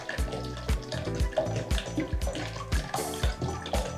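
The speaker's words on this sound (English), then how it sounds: "So you want to add your magnum of wine to your 3 cups of apple cider" A magnum bottle of wine glugs into three cups of apple cider with fruit for sangria, a steady pour with rhythmic gurgling pulses, close and moderately quiet, with no voices.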